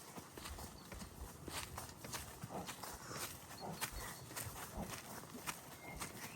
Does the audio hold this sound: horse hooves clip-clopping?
yes